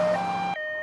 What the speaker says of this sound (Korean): 경찰차인가?